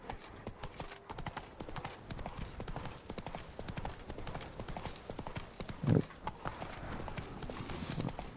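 Steady clip-clop of horse hooves trotting at an even pace in the video game The Witcher 3: Wild Hunt, with a brief whinny-like burst partway through.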